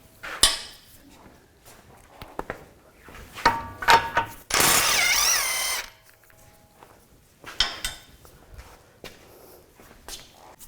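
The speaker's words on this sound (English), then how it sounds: "22mm socket, take that off." A ratchet with a 22mm socket works a rusty tie rod nut loose, giving intermittent clicking bursts, a loud steady power-tool whir of about a second and a half in the middle, and scattered clanks nearby.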